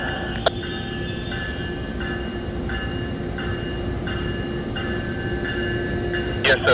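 A train stands at a New York Penn Station platform during rush hour, with a steady rumble and hum, a faint repeating tonal pulse, and a short clank near the start and another near the end.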